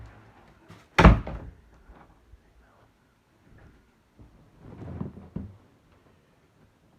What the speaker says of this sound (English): I'm going to shut my door.